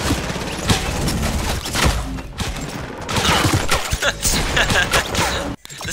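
Dense gunfire and explosions during a Fortnite event, rapid overlapping loud shots and thuds packed closely together with no pauses.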